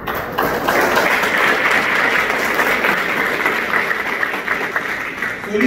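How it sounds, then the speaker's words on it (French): A crowd at a Haitian political party event for Solution breaks into loud, continuous applause, a dense clapping roar that stays strong throughout with faint voices mixed underneath. "Applaudissements."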